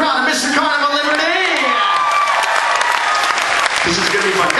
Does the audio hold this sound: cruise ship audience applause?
yes